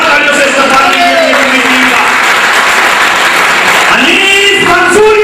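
Loud applause from the audience at a Mansoori community conference, steady dense clapping throughout with voices and tonal sound from a public address system over it.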